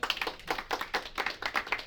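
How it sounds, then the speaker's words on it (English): Live applause from an audience at a tech business talk event: a short burst of many hands clapping in a quick, even patter. "Give you a clap."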